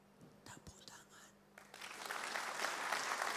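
A church congregation breaks into applause during a sermon, starting after a moment of murmuring and soft voices, then swelling into broad, steady clapping that grows louder toward the end.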